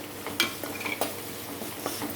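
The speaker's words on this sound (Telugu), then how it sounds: "ఇక ఇప్పుడు వేసుకుంటున్నాను కరివేపాకు" Curry leaves drop into hot oil for tempering in a fish curry, producing a brief, close sizzle with a few sharp crackles and light metallic stirring clicks.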